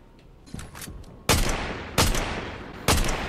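Shotgun blasts in a shooter video game: three loud, sharp booming shots spaced about a second apart, each with a decaying tail, preceded by quieter clicks and clatter.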